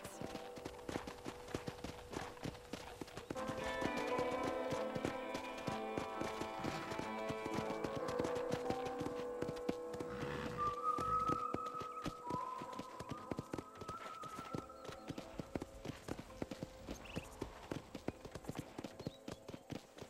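Rhythmic clip-clop of horse hooves at a steady walking pace on a ranch in the game Red Dead Redemption, continuous and fairly close, with light game-style music and tones drifting in.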